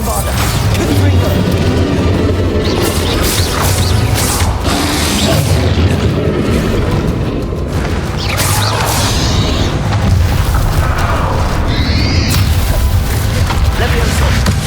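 Bombarda and Confringo spell blasts in Hogwarts Legacy during the final boss fight, a loud continuous churn of booming impacts, mechanical clanks and crashes with voices calling out over it.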